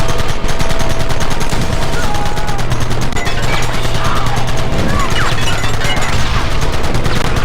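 Rapid machine-gun and rifle fire in Red Dead Redemption runs as a loud, dense, continuous clatter of shots throughout, with a low engine-like drone beneath.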